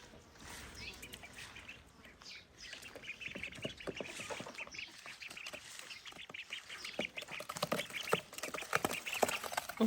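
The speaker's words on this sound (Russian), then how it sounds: "Утки вон в тазике плещутся" Ducks splash and dabble in a small basin of water in a backyard garden, a busy stream of wet slaps and patters with soft quacks and chirps, close by and continuing steadily without talk.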